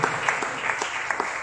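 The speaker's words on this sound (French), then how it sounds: "Acclamons la parole de Dieu." A church congregation claps together in a brief burst of dense, even applause, moderately close, that ends quickly.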